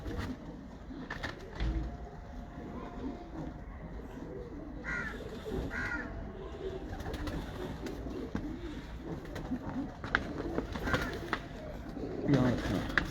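Ababil breeder pigeons coo in soft, repeated bursts at a breeder's loft, mid-distance, over a steady background murmur with occasional voices nearby.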